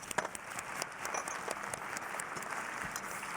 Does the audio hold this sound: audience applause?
yes